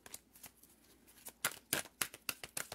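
Tarot cards being shuffled during a reading, quiet riffling bursts and soft flicks, sparse at first then several sharper snapping riffles in quick succession near the end.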